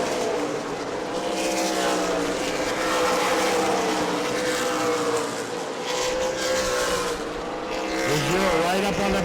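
Race cars lap at the New Smyrna Governor's Cup, engines droning and wavering in pitch as they pass through a corner, loud and continuous with a commentator talking over the noise.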